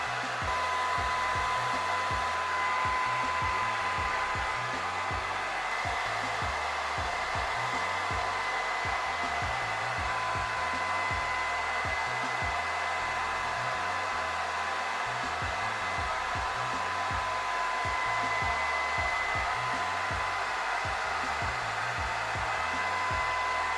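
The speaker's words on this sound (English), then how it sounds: "I always blow dry my hair on, I don't think you can see that, but low heat and on high with low heat." A blow dryer dries hair on the high setting with low heat, producing a continuous loud, even roar that runs steadily throughout with no talking.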